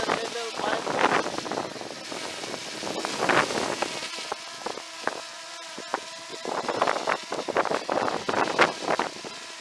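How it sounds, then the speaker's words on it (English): Strong wind buffets a MINI SE drone in flight, giving a droning rotor whine under gusty, rumbling microphone wind noise that surges and fades, with a few sharp knocks. "Shaking a little bit because of the strong wind"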